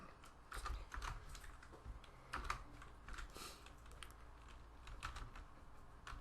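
Fast, uneven typing on a computer keyboard, close and steady, with bursts of clustered key clicks and no talking.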